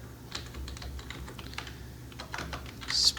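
Close computer keyboard typing while writing C++ code, a quick run of light, uneven keystrokes with brief pauses and a slightly louder burst at the end.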